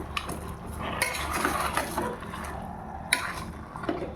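Mutton is stirred with rock salt in a pot, with a spoon scraping and clinking against the metal over a soft, continuous frying hiss, close and moderately loud, and no talk.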